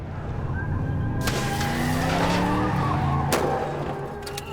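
A car skids through a turn it fails to make, tires squealing in rising and falling streaks over a steady engine roar, loud and close, with a couple of sharp bangs and no talk.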